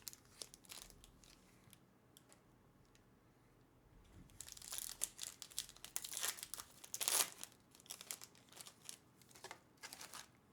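The foil wrapper of a Marvel Super Heroes Play Booster pack crinkles and tears as it is opened. Faint rustling builds into louder, close crackling bursts in the middle, then settles back to soft handling.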